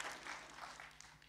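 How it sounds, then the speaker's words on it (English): An audience at a panel event on generations in Africa applauds, a brief burst of dense, moderately distant clapping that fades slightly by the end. "So let's clap for Neema."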